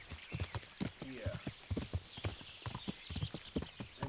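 Horse hooves clip-clop in a steady rhythm in the video game Kingdom Come: Deliverance, clear and moderately close, with faint ambient game sound around them.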